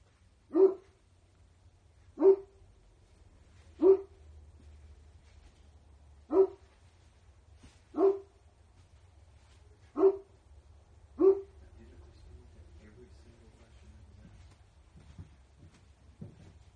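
Inside a private home at night, a dog barks at a flashlight in evenly spaced single barks, seven in a row over about eleven seconds, then falls quiet with faint rustling and a low background hum.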